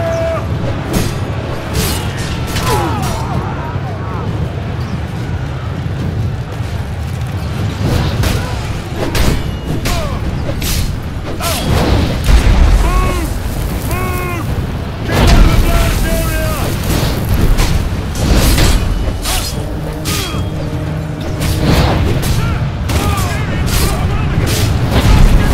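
Deep booms and explosions from artillery fire in Ryse roll through a loud battle scene, with repeated heavy blasts amid shouting and clamor, some bursts stronger around the middle and end.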